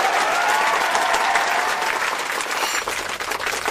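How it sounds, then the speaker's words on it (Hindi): A live show audience claps loudly for a singer and songwriter, dense steady applause that tapers slightly toward the end, with faint voices underneath. "आइए इनके लिए जोरदार तालियां।"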